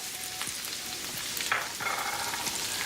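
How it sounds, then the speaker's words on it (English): Onion sautéing in a pan, an even sizzle of hot oil broken by scraping and stirring sounds from a utensil, with no talk. "So we're going to saute our onion for like 3 to 4 minutes"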